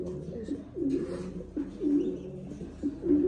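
A pair of Hyderabadi Nila pigeons, an Indian high-flyer breed, coo close by in soft repeated throaty bursts with short pauses between calls.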